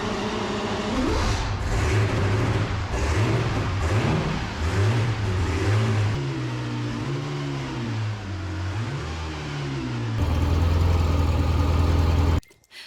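A 1931 race car engine starting and revving: the engine catches and runs roughly, rising and falling through repeated throttle blips, then settles into a louder steady run before cutting off abruptly, close by.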